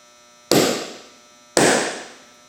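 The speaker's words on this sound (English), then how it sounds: "I've got my center punch here" A center punch is struck twice into a metal bracket for a 52-inch LED light bar, each blow a sharp, loud close impact with a ringing decay, about a second apart.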